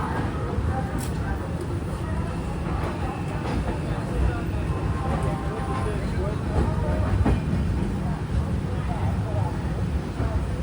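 The Mangala Lakshadweep Express pulls out of Hazrat Nizamuddin station, heard from inside a sleeper coach as a low, steady rumble with faint, occasional clacks.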